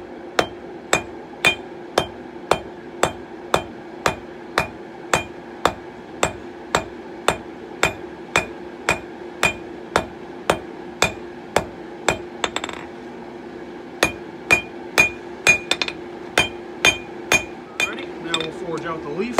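Hammer blows forging a steel taper on a 66-pound anvil, ringing strikes in a steady even rhythm about two per second, loud and close, with a brief pause and shifting tone near the end.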